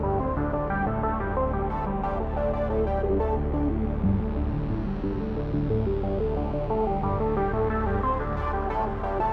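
A Redshift 6 analog synthesizer plays a dense, sustained musical passage with layered tones and shifting chords, steady and fairly quiet throughout, no voices.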